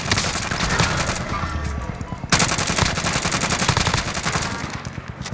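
Loud, sustained automatic gunfire from the video game Call of Duty: Warzone, rapid bursts rattling continuously with one sharper crack partway through.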